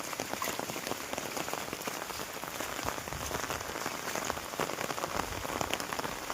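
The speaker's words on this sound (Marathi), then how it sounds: "काल संध्याकाळी 7 वाजल्यापासून पाऊस चालू आहे" Steady rain falls on flooded farm fields, a dense even patter of drops that is soft and continuous throughout, with no voices.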